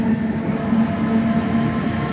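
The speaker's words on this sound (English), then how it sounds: "things I like about the networkers, is that incredibly unique motor noise" Southeastern Class 465 Networker electric train on the Rainham to Gravesend line, a steady loud motor hum with a sustained low whine over rolling wheel and track noise, heard continuously from inside the cab.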